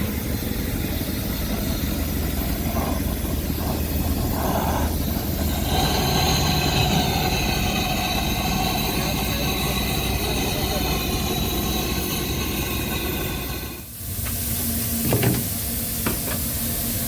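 Arjoeno steam locomotive at the PG Rejosari sugar mill, steam hissing and the blower roaring steadily close by, with a sudden burst and a drop in the noise near the end and people talking faintly in the background.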